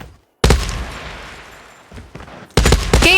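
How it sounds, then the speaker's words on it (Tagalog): Gunfire from the Call of Duty Mobile video game: sharp bursts of shots, one volley with a decaying tail, then a short burst and another loud rapid volley at the end. "Ba't bumabaril-baril siya?"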